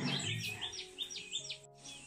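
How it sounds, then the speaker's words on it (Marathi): Sparrows around a village yard give a quick series of thin, high chirps, faint and fairly distant, with nothing else competing. "चिमण्या बघ कशा पळतात।"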